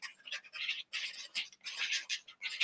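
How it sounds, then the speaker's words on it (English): Pen scratching across paper during writing, a dry scraping in short bursts of strokes with brief pauses between them, close and fairly quiet, no voices. "It's the noise of the scratching of Michelle's pen."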